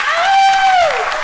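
Louder applause from an audience at a Startup Grind talk with Neal Bloom, a continuous dense wash of clapping with a high whistle or cheer gliding over it.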